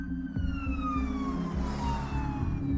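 An ambulance siren wails over a low rumbling drone, loud and steady with a falling tone, with no voices.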